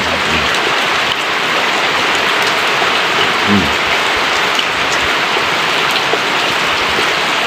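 Steady, loud rain falls throughout, a dense hiss of drops on surfaces close by with no talk over it.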